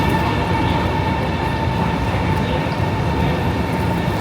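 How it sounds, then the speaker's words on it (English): A Shanghai–Hangzhou high-speed train pulls into a station: a loud, steady rolling roar with a constant mechanical hum runs the whole time, with no voices. "here comes the train."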